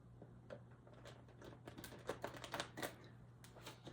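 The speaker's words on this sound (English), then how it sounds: "Let me shuffle these cards one more time." A deck of cards is shuffled, producing a quiet, rapid flurry of papery clicks and flutters with a few sharper snaps, heard close over a low background hum.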